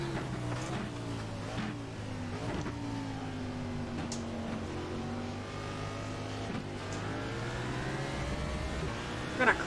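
Race car engine lapping Laguna Seca in a racing video game cockpit view, a steady moderate drone that shifts pitch through gear changes, heard alone.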